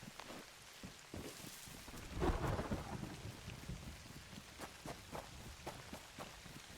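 Rain patters steadily with a low rolling rumble of thunder swelling in the middle, heard in the DayZ survival game on the Livonia map, faint and continuous with scattered sharper ticks throughout.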